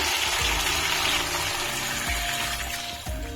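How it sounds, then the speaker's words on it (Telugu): Water pours into a pan for egg semiya upma with a steady rushing splash, and a few soft knocks of cookware underneath. "వాటర్ వేసుకుందామండి"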